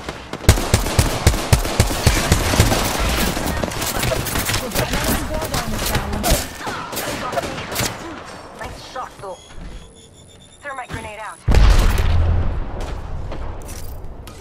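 Rapid bursts of automatic gunfire and booming impacts from a sci-fi shooter, a G7 Scout rifle among them, loud and dense for most of the stretch, easing off near the end before a heavy thump, with a voice talking over it.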